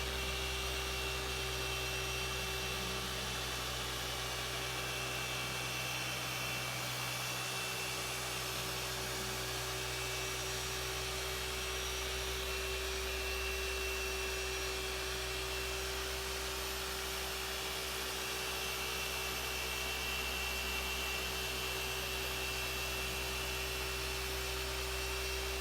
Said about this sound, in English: we're going to let the polisher stop rotating and oscillating before we lift it up off the panel